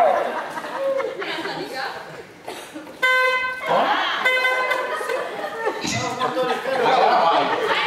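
A car horn in a circus taxi act gives one sharp, loud honk partway through, set amid lively chatter, laughter and crowd noise from the audience and performers.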